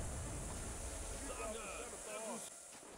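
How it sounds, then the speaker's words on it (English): Gas shells fire in the WWI video game Battle of Empires 1914-1918, a loud, steady, steam-like hiss that fills the scene and drops away near the end; no talking. "Oh my, they are just shooting gas."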